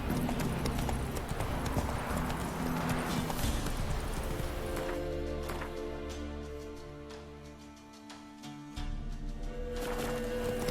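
A horse galloping in The Witcher 3: Wild Hunt, a steady rapid clip-clop of hooves close up, easing off briefly near the end before picking back up.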